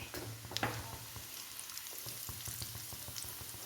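Pork pieces for pickle frying in oil make a soft, steady sizzle scattered with small crackling pops, heard faintly and without talk.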